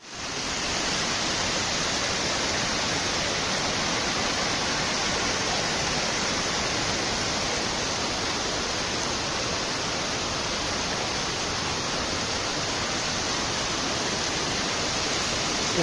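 Water rushes steadily at a waterfall on the Dawki river in Meghalaya, a dense, unbroken roar that stays loud and even throughout with no voices.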